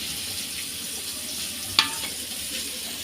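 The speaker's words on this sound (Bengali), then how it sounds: "এখন ওই মাছ ভাজা তেলের মধ্যে একটা বড় রসুন থেতে করে দিয়ে দিচ্ছি" Crushed garlic frying in leftover fish-frying oil, a steady close sizzle with one sharp clink partway through and no voices.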